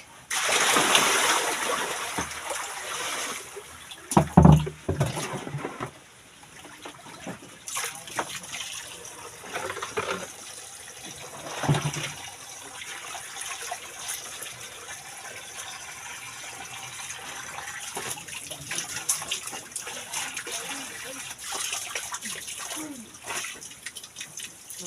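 Water splashes and sloshes close by as cloth is worked by hand, with irregular bursts of splashing and quieter dripping between.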